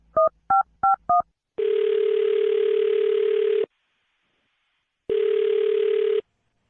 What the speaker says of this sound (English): I'll dial her phone number right now then and see if we can figure out what happened